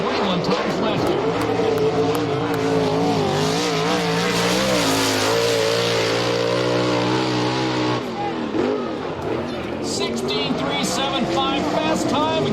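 USAC/CRA sprint cars race at Perris, California, their engines roaring loud and continuous with rising and falling revs as they pass, while a voice talks over the din.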